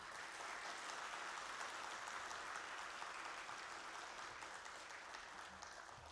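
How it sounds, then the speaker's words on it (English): Steady applause from a crowd at a National Stock Exchange of India listing ceremony for Parth Electricals & Engineering Limited, dense and continuous clapping that holds evenly for the whole stretch. "I would like to ask everybody to please give the company a huge round of applause."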